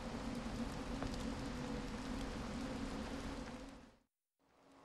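Steady rain patters down in a game scene from The Silent Age, a dense broadband hiss that holds for about four seconds before cutting out abruptly, then resumes faintly.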